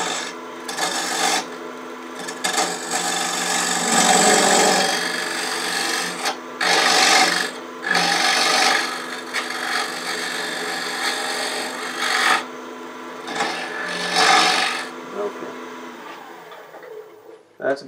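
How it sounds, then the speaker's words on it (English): A shop-made dovetail tool is pushed straight into spinning wood on a lathe, cutting a recess for a chuck while turning a wig stand: a close, steady rasping scrape in several bursts with brief pauses, the lathe humming beneath. "Now I'm going to use my shop-made dovetail tool for recesses."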